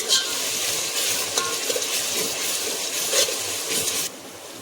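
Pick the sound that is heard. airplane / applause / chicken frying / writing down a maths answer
chicken frying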